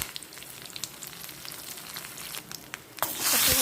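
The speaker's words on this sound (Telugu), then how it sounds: "చక్కగా తాళింపు ఎంత బాగా వేగుతుందో" Fenugreek seeds, cumin, curry leaves and a dry red chilli sizzle and crackle steadily in hot oil as a tempering for cabbage and chana dal curry, a close, continuous frying hiss that swells louder near the end.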